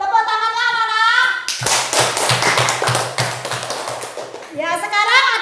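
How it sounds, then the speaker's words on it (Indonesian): Schoolchildren in a classroom clap together in a brisk, rhythmic burst lasting a few seconds, set between stretches of a teacher speaking. "Tepuk tangannya anak-anak."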